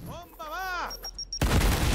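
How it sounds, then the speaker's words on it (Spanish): A grenade blast in the video game Gears Tactics bursts in loudly and broadband partway through, following a man's excited speech and continuing as a dense roaring rumble to the end. "A ver, el granadazo,"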